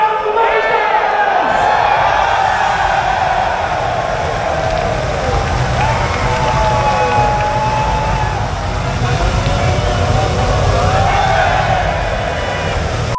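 A large esports crowd at the Dreamhack Melbourne 2023 grand final cheers and roars continuously, loud and sustained, with shouted voices rising over the din.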